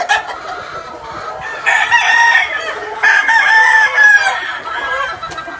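A pumpkin gamefowl rooster, yellow-legged with a straight comb, crows twice at close range in a pen at a game farm, with clucking from other fowl around it and no talk.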